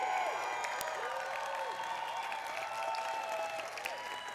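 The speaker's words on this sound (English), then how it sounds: "We'll just clap until you get here" A conference audience at a Python community awards session applauds steadily, with a dense wash of clapping and a few faint whoops and voices mixed in throughout.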